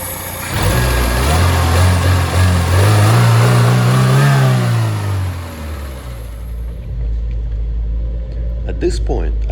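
A 1969 Renault R16 engine, freshly tuned after carburetor adjustments, revs up loudly and close by, climbing and falling once before settling into a steady, lower idle.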